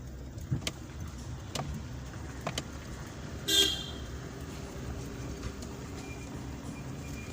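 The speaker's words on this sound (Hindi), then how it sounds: "वो जो गाड़ी हारन दे रही है ना" A car horn gives one short toot partway through, faint and distant over low street noise and a few scattered clicks.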